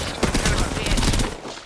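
Rapid bursts of video-game gunfire in a one-on-one shooter match, dense and loud for the whole stretch, with a voice briefly under it.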